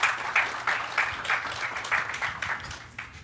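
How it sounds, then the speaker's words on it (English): A short round of audience applause at an AWS re:Invent 2018 conference talk on connecting industrial machines to IoT, steady moderate clapping from a seated crowd, fairly close, with no talking over it. "maybe a short round of applause for Kurt."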